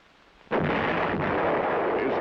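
A US heavy artillery piece fires one loud, close boom that rolls on and sustains for nearly two seconds.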